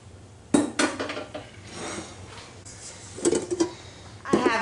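Kitchen clatter as a glass bowl is handled while making pretzel dough, with several sharp clinks and knocks spaced irregularly over a quiet background, close and moderately loud.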